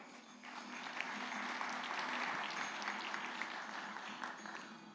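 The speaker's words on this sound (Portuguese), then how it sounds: "Uma calorosa salva de palmas" An audience at an agribusiness panel event applauds warmly in a steady, dense wash of clapping that holds for the full stretch without voices over it.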